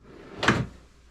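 A Harbor Freight self-closing drawer on a reloading bench glides shut, a single soft, muffled close with a brief rising swish that fades quickly, nearby.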